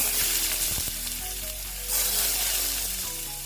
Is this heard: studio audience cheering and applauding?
no